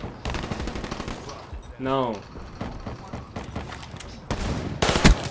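Rapid video game gunfire from an M16 crackles in dense bursts, with a brief shouted voice in the middle and a louder volley near the end.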